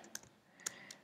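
Typing on a computer keyboard while coding: a few light, sparse key clicks, quiet and close with no talking.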